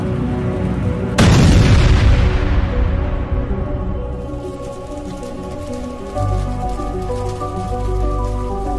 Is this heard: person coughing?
no